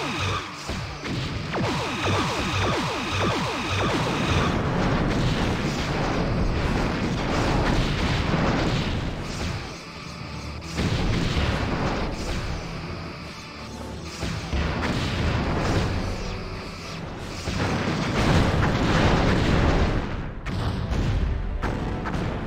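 Spaceships blow up in a space combat battle in the game Star Trek Bridge Commander, with repeated loud booming blasts and rumbling crashes layered over a dense, continuous game soundscape.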